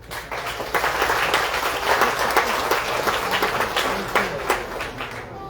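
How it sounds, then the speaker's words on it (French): A crowd at the official opening of Indigenous Peoples' Day in Matoury applauds. The applause is dense and sustained for several seconds, then thins slightly toward the end. "Merci d'applaudir s'il vous plaît"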